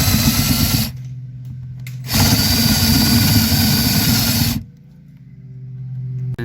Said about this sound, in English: stick the paddle bit in there